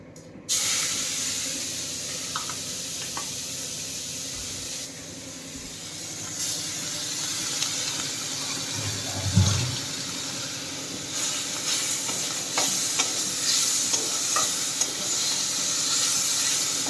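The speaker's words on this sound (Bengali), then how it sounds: "এটাকে তেলের ভিতরে দেবো, দিয়ে কষে নেবো" Onion, garlic and ginger paste fries in hot oil for a koi fish curry, giving a continuous close hiss and sizzle with a brief louder spit partway through.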